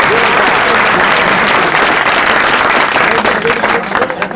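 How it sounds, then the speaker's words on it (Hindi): Loud, dense applause from a crowd at a coaching academy party, continuous close clapping that holds steady and then begins to thin at the end. "जोरदार ताली।"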